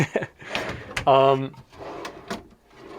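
A deep drawer in a 2015 Tiffin Phaeton motorhome slides on its runners with a short grinding rumble, set between bits of talk.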